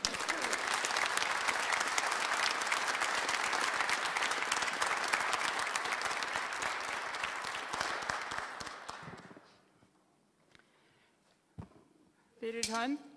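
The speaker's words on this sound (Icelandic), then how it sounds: "Ef ekki að klappa fyrir henni Stínu." Audience applause for Stína at an Önfirðingafélag memorial gathering, a dense sustained clapping that swells for about nine seconds, then fades, leaving quiet room noise and brief speech near the end.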